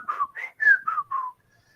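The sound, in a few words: person imitating a whistle call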